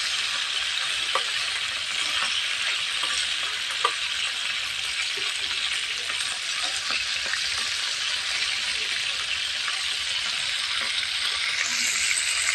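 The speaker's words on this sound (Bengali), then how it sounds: "দুই সাইডে ভালোভাবে উল্টে পাল্টে ভেজে নেব।" Chicken pieces fry in hot oil with a constant bright, crackling sizzle, broken by occasional light clinks of a utensil against the pan.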